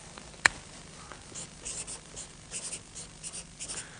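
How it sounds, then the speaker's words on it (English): A pen scratching across paper in short uneven strokes, close and clear, preceded by a single sharp tap near the start. "And then on here you can write"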